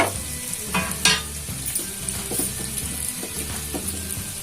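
Mango dal being stirred in a hot pan, with a steady sizzle and repeated scraping strokes of a spoon against the pan, close and fairly loud.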